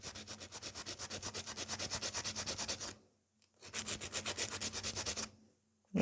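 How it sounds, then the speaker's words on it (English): Rhythmic back-and-forth rasping of a nail file shaping the sides of a fiber gel nail, two close bursts of rapid even strokes separated by a short pause. "Check this way so we can file it nice."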